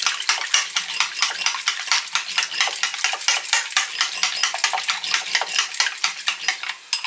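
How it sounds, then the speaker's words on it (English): Eggs being whisked in a bowl for a breakfast scramble, a fast steady rhythm of utensil clicks and scrapes against the bowl, close and fairly loud with no talking. "Let me whisk these."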